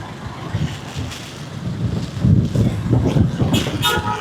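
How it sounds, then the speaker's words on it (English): Gusty wind during a rainy-season thunderstorm in Angeles City buffets the microphone with low rumbling roars that swell and fade, with faint background noise behind it. "Oh, very windy right now"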